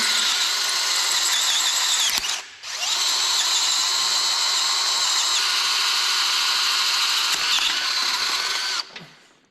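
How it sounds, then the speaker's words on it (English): A power drill whines steadily while boring out a hole for retapping on the rear spring mount of an off-road wrecker, loud and close, in two long runs with a brief stop between them. "we're just gonna have to drill it out and retap it"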